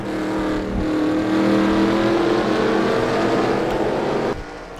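A race car engine at Bathurst roars loud and close through Ford corners, pitch climbing steadily under acceleration before cutting off abruptly near the end.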